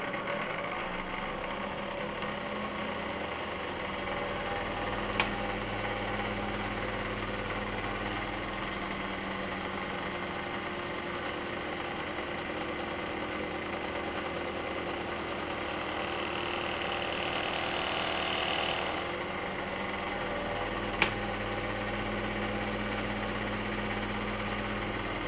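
A machine steadily shaving a moldy brown wax cylinder, producing a continuous mechanical drone and hum with a faint rhythmic texture, quiet and unchanging apart from a couple of brief clicks.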